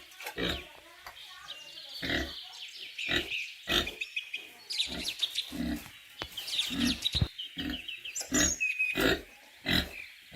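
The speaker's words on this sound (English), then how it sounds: "Con lợn. Pig. Pig." A pig grunts and squeals in a series of short, sharp, loud bursts repeated in an uneven rhythm, up close on a farm.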